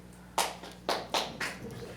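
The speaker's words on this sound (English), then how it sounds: "I didn't expect any other clap" Scattered hand claps from a small audience at a Lancaster town selectboard meeting, four sharp bursts over about two seconds, fairly close, with no talking.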